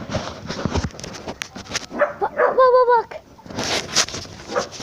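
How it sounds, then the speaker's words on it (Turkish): A dog whines and yips nearby amid rustling, with a short high-pitched whimpering cry in the middle. "Bizim komşumuzun köpeği."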